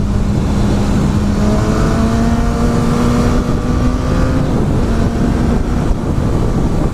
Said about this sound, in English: Look at that M2 go.